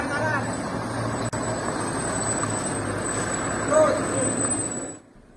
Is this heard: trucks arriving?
yes